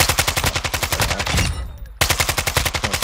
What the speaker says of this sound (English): They shot at us first.